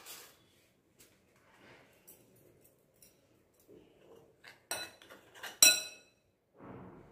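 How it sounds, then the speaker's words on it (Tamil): A metal tempering pan is set down on a kitchen counter, giving a cluster of sharp clinks and clatters near the end. Before that there are only scattered soft taps, and the room is otherwise quiet. "ஒரு தடுக்கா பேன் வச்சுருக்கேங்க."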